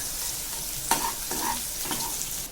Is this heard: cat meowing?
no